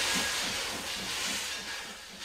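A Heber Valley Railroad steam train passes in Utah, its broad hissing steam washing over faint rhythmic rumbling of steel wheels on rails, loud and close, with no voices.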